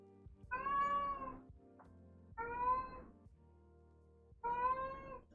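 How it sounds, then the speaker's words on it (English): An elderly house cat meows three times indoors, each call long and loud with drawn-out harmonics, separated by short pauses with quiet room tone between them. "That is my cat."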